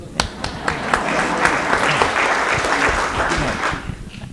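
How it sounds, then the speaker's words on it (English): A gathered audience at the Ojai Chautauqua breaks into applause, a full, continuous patter of many hands clapping close by with a few sharper individual claps standing out, sustained throughout. "I'll give you a round of applause."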